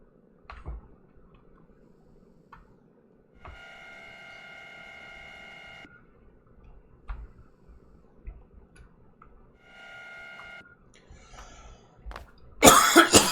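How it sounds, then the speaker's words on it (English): A person coughs a few times, dry coughs from dry air irritating a tonsil, close and fairly quiet, with a ticking background and a louder burst of throat noise at the end. "So I get a cough."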